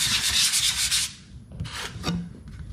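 A handheld sander with 150-grit paper works across a wooden board, giving a loud, steady rasping scrub for about a second, then quieter and more intermittent strokes that follow.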